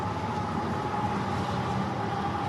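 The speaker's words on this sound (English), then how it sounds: "That's a long train because they've got engines in the middle." A long freight train with locomotives placed mid-train rolls past nearby, giving a steady, continuous rumble and clatter of rail cars with a tonal hum, heard alone without voices.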